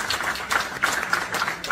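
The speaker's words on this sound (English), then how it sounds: "And then everybody starts cheering" A crowd at a stand-up comedy set applauds steadily, a dense patter of many hands clapping at once, with no voices standing out.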